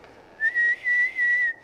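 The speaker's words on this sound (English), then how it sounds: "I don't know how to whistle." A person whistles four short, steady high notes in quick succession, clear and close with no talking.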